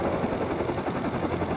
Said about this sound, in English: Is the helicopter coming in now or out?